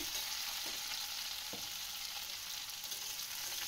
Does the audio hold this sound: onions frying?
yes